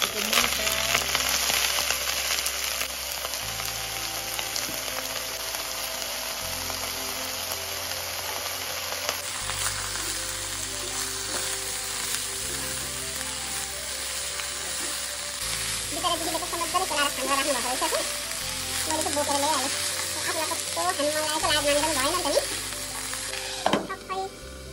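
Pumpkin shoots with dried chillies and turmeric frying in a pan while being stirred: a loud, constant sizzle with occasional scraping of the spoon, lasting about 25 seconds over a low background tune.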